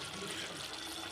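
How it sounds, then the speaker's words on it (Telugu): Water poured into a pot of pumpkin pieces set to cook, a brief faint continuous splashing rush with no voices. "ఇలా కొద్దిగా వాటర్ పోసుకొని గుమ్మడికాయ ఉడికేంతవరకు చూసుకోవాలి."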